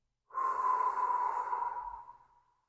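A long, steady breath pushed out through the mouth during Sheetali pranayama, a single airy exhale that swells quickly, holds and then tapers off slowly, heard close and alone.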